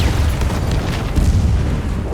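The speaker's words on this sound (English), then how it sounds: "when they detonated the bombs, the ground began to collapse" Planted explosives detonated in the ground, a sustained deep rumbling boom that rolls on heavily and loudly for the whole stretch with no voices.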